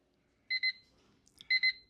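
A kitchen cooking timer on an oven-roasted rib appetizer goes off, sounding two quick pairs of bright electronic beeps about a second apart, fairly close and clear with no voices.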